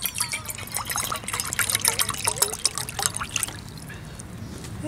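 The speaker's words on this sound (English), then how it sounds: "Pour our water." Water poured into a pot over metal rods at a woods campsite, a steady trickling splash for about three and a half seconds before it stops, leaving quiet outdoor ambience.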